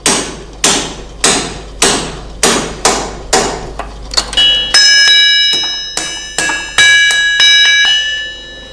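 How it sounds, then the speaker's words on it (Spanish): Sharp metallic hammer blows drive a punch into hot iron at a blacksmith's forge at a steady rhythm, then the strikes turn ringing and bell-like, leaving a lingering metallic tone between hits. "los agujeros se hacían a golpe de puntero sobre el hierro en caliente"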